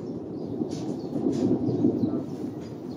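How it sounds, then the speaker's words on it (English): Low rumble of thunder from an approaching summer thunderstorm heard from a porch, a sustained rolling swell that peaks in the middle and fades, with faint higher chirps on top. "This is the first thunderstorm of the summer, of the season we're having."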